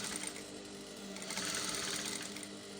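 A shirt dress sleeve is stitched by a sewing machine with a steady, continuous whirring chatter that is close and even throughout, with no pauses.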